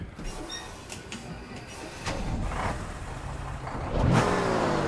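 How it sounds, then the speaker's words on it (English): A large truck engine, an older turbo engine, revs up in surges, rising in pitch, with mechanical rattles and a squeak; the roar builds toward the end. "Like that boom, that instant revving."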